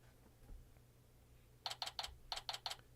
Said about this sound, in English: It's just a very clicky-clacky Corsair keyboard.